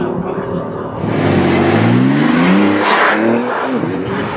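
A car accelerates on the Circuit Paul Ricard race track, engine rising through gears with climbing revs and shifts, loud and close, with brief voices partly under the engine.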